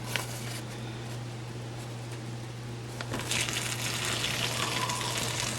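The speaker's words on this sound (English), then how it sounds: "I got some boiling water. Gonna put in this bag" Boiling water poured into a plastic bag gives a steady hiss and gush, rising and brightening after about three seconds. A low constant hum sits beneath it, with no talk.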